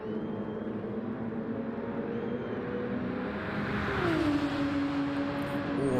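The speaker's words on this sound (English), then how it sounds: "those cars do sound good when they're going past you" Racing cars in a racing video game: steady engine drone rising as a car roars past close by with a falling engine note, loud and without talk.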